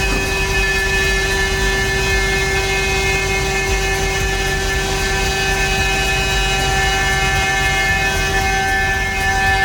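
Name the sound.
CNC machine running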